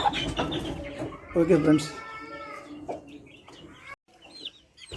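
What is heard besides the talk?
chickens clucking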